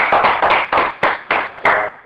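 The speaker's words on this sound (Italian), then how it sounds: "Grande Carini. Applauso!" An audience in an Italian studio show claps in a steady rhythm, seven or eight sharp, loud bursts evenly spaced, with no voices over them.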